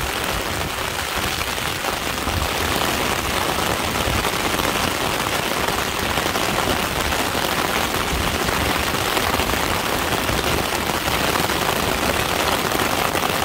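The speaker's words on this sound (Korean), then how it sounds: "비가 너무 옵니다." Heavy rain pours down outdoors in a dense, constant roar that stays loud and unbroken throughout, with no voices.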